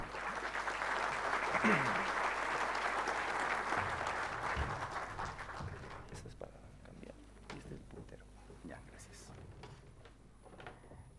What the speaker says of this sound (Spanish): recibamos con un caluroso aplauso a José Armando Garavito Castillo